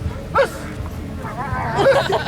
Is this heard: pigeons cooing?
no